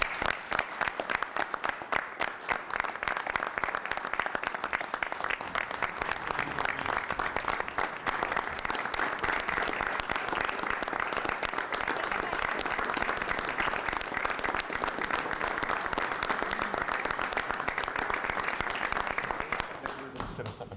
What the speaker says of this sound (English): an official round of applause in meeting